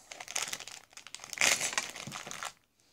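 A Ziploc plastic bag crinkling up close, with quiet bursts of rustling and crackling over a few seconds, a louder crunch in the middle, then fading out.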